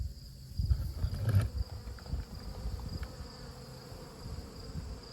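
A low, steady insect buzz of bees drones on close by, rising and falling softly with faint background hum and no talking.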